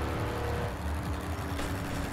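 A heavy truck rumbles past in the My Summer Car driving game, its low engine drone steady and fairly close throughout a short stretch, with no voices.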